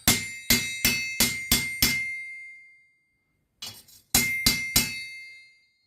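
Mangled steel log splitter legs hammered straight on an anvil: a run of six sharp ringing metallic strikes, a short pause with lighter taps, then three more loud ringing blows, close and without talk.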